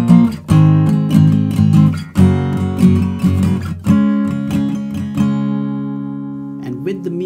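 Acoustic guitar strumming chords without palm muting, ringing open strums in a steady rhythm with sustained chords, ending in a lingering decay with a brief scrape.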